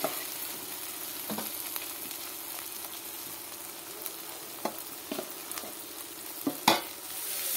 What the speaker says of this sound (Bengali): এখন ভেজে রাখা আলুগুলোকে ঢেলে দেব।